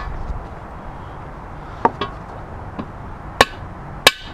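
A hammer strikes a transmission part being seated during a Ford Fiesta ST gearbox reassembly, with a few sharp, isolated knocks spaced apart and two distinct smacks near the end over a quiet workshop background.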